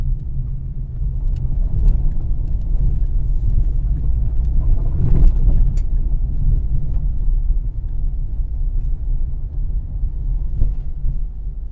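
A BMW X3 climbs a rough road near Paphos, Cyprus, its engine a steady low rumble from inside the car, with occasional knocks and jolts over the uneven surface.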